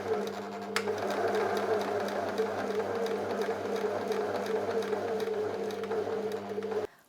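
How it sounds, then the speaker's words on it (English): An overlocker stitches a swimsuit seam with elastic basted in, running as a close, loud, continuous whir that stops abruptly at the end. "now I'm going to the overlocker to stitch it"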